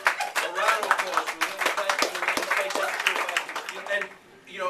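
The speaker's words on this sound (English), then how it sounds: "A round of applause." An audience claps in a round of applause at a charity fundraiser magic show, a dense, steady patter of many hands, fairly loud and close throughout, fading out near the end.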